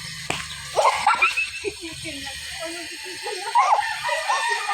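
A tethered rooster crows with wavering calls amid background clucking, close by, with some brief sounds in between.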